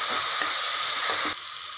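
Onion, tomato and ginger-garlic paste with a little salt sautéing in a pan, a loud steady sizzle with faint stirring scrapes, no voices.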